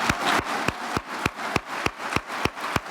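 Steady rhythmic clapping at a business conference, about ten sharp claps in even time over a noisy room background.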